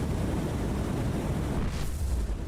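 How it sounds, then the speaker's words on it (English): A deep, rumbling explosion on a ship in the naval combat game War on the Sea fills the whole clip as a steady, loud roar with no clear separate bangs. "Oh, that explosion doesn't sound so good"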